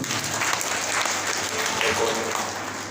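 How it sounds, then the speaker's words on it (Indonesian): A crowd applauds together at the end of a patriotic Indonesian gathering, a dense, continuous burst of clapping at moderate loudness, with voices blending into it. "Tepuk tangan buat kita semua."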